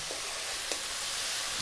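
Shiitake and king oyster mushrooms sizzle steadily while being stirred in a hot pan, a constant close frying hiss with faint scraping and no talk.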